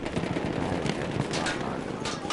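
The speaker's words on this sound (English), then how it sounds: "Getting on my trench gun." Trench gun shots in a PS4 shooter game: a dense, rapid string of gunfire blasts with no gaps, fairly close and loud.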